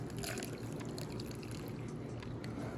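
Hot chocolate poured into a mug, a soft continuous liquid stream that stays quiet and close for a few seconds, with no one talking.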